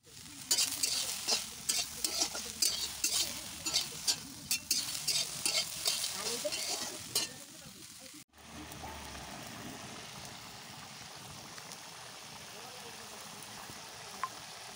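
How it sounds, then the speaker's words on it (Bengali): Soaked soybean chunks with spices stir-fried in a kadai sizzle loudly while a spatula scrapes and stirs in quick repeated strokes, then the heat settles into a steady, softer frying hiss after a brief cut. "তাই সোয়াবিনটা কড়াই ভালো করে কষে নেব।"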